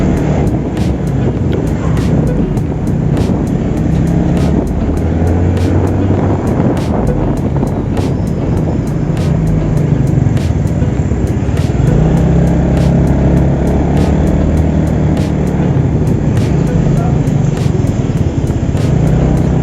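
Yamaha Mio Sporty scooter fitted with a PE24 carburetor, ridden on the road, with a steady loud engine drone buried in heavy wind rush and road noise, and faint voices now and then.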